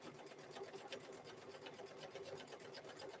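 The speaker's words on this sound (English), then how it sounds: "I'm going to center that foot there, and it's going to stitch across right here" A sewing machine stitches across the edges of fabric for a microwave bowl cozy, its fast, even mechanical whir and needle clatter running steadily and fairly quietly, close by, with no talking.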